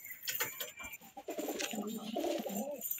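Madrasi pigeons of a Kolkata bloodline coo in low, repeated throaty bursts, continuous and fairly close, with fainter bird calls mixed in and no talk over them.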